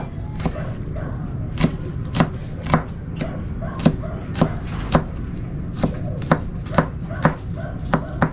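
A knife chops garlic finely on a board in steady, crisp strikes, about a dozen close taps at an even rhythm with faint background hum.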